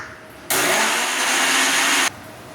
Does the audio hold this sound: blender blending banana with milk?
yes